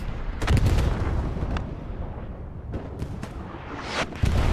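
Rockets launch in Hell Let Loose, with several sharp blasts and booms spread unevenly across the stretch over a rumbling battlefield background, heard without talk.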